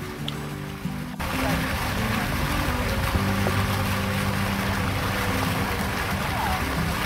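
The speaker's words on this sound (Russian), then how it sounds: "Да, друзья, вот такой здесь небольшой водопадик, но все-таки это водопад." Close to a small waterfall on the Zhane river near Gelendzhik, falling water makes a steady, full rushing roar that continues without a break after a short quieter start.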